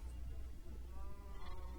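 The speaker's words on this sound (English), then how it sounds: "see about increasing my sheep population a tiny bit over here" Sheep bleat in the SkyMyst video game, a faint wavering cry over a steady low background hum.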